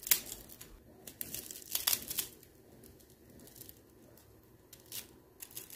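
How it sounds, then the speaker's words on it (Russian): Crisp, crackly crunching of golden grilled bread slices for bruschetta, several loud crackles in close succession early on, then fainter scattered crunches with quiet gaps. "Послушайте, как хрустит хлеб."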